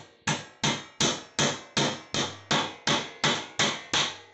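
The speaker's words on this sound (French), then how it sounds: "Ce petit marteau permettra de frapper toutes sortes de choses." A carpenter's hammer with a 28 mm tri-material handle strikes about ten times in a steady rhythm. Each blow is close, sharp and loud, then decays quickly, with no talk.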